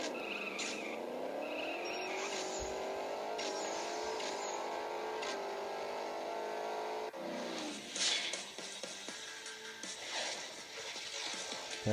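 A race car in the CSR Racing video game on an iPad revs and accelerates with a steadily rising engine whine, then drops to a rougher, busier roar after a gear change or finish, loud and continuous.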